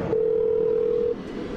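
A car's phone system emits a steady electronic tone while a call keeps trying to connect. The single clear, sustained beep lasts about a second before cutting off, leaving quiet background hum.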